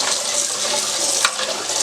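Tap water runs steadily over just-boiled potatoes for a potato salad, cooling them in a sink: a continuous close hiss and splash with one brief louder splatter partway through.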